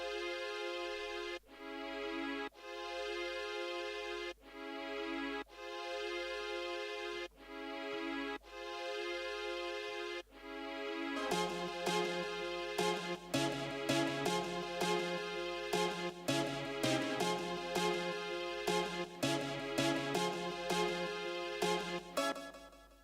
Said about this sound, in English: So you get your violin, you put it in the simpler, and it sounds like this.